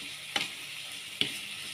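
Tempe triangles stirred in a pan for balado with quail eggs: a steady frying hiss throughout, with two sharp utensil scrapes against the pan about a second apart.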